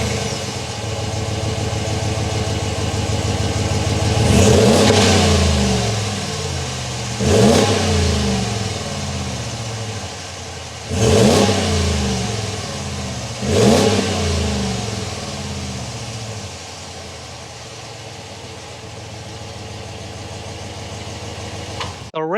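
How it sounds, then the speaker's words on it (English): A 2022 Ram 1500 Rebel pickup with a 5.7-liter Hemi V8 revs repeatedly, sending out four loud, rising exhaust bursts over a steady idle rumble, with no voices. "this is a Hemi. Let's go inside and hear that exhaust note."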